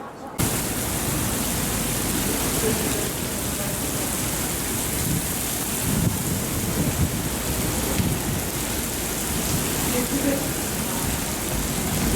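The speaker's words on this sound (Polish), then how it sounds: "nieoczekiwanie przyszła burza i duży deszcz" Heavy rain pours steadily in a dense hiss during a thunderstorm in San Marino, with low thunder rumbling underneath throughout.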